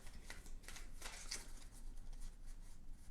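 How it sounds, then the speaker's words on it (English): A deck of cards for the board game Hunted: Kobayashi Tower is shuffled by hand. Soft, papery riffling bursts repeat quickly and quietly on a tabletop, with no voices. "Give that a good shuffle"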